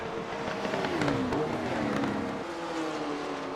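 A 1955 Jaguar D-Type racing engine in Assetto Corsa on a Scottish Highlands track, pulling hard down a straight: a steady, loud drone whose pitch climbs, drops at a gear change, then climbs again.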